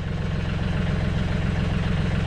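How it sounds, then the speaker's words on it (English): A John Deere 3320 compact tractor engine idles while warming up, a steady, close, low diesel rumble with an even pulse throughout and no voices. "I'm warming the tractor up so I can get the tiller off"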